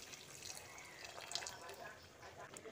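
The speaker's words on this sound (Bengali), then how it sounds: "এখানে পরিমাণ মতো গরম জল অ্যাড করে দিচ্ছি" Hot water poured into a pan of mung dal curry with pointed gourd, a soft, steady liquid trickle and splash, faint and close for a few seconds.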